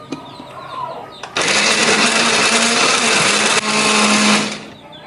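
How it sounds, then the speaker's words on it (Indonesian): A kitchen blender grinds curly red chili, shallots, garlic and tomato into paste: after a few small knocks it starts with a loud, dense whirr, briefly dips, then runs again before cutting off, with no talking. "Ini akan kita blender"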